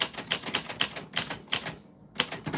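Brisk, steady clacking of keys on a portable manual typewriter, loud and close, with one short pause before the strikes resume in a quick rhythm.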